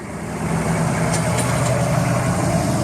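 A truck engine idles steadily and loudly, a continuous low rumble with no breaks, while the truck is set to pull forward and back a hay trailer into a barn on a farm.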